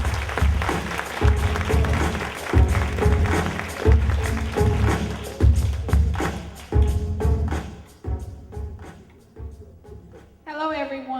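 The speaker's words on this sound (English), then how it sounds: "Clap your hand as she comes up" An audience claps for a speaker coming up at a motivational speaking event, with steady rhythmic applause that fades out toward the end, followed by a brief voice.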